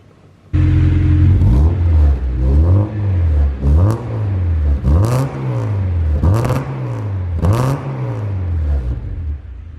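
A K24-swapped EK sedan fitted with a JACKSPANIA muffler starts up and revs repeatedly, each loud rising blip falling back to a deep burbling idle, about six revs in sequence close by.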